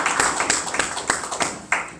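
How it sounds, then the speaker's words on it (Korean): A church congregation gives a short burst of clapping in praise, scattered claps landing irregularly for a couple of seconds, fairly close and moderately loud with a faint voice underneath. "하나님께 영광의 박수를 드리도록 하겠습니다."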